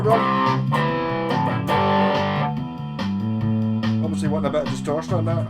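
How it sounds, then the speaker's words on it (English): Distorted electric guitar chords and riffs from a TRIO Band Creator pedal demo ring out loud and close with a steady bass line underneath, sustained chords changing every second or so. "Obviously wanting a bit of distortion on that"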